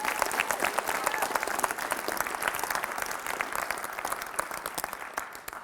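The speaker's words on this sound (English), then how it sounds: "Round of applause for Antonio." A round of applause from a high school audience at a speaking session, steady dense clapping from many hands filling the room evenly for several seconds.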